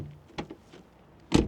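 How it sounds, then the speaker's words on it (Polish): The front door of a 2013 Mercedes E200 opens with a light latch click and then shuts with a solid, loud thunk about a second later, heard close up. "Dźwięk otwierania i zamykania drzwi z przodu."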